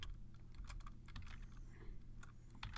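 A password is typed on a computer keyboard as a quiet, steady run of close key clicks lasting a few seconds, alone without speech.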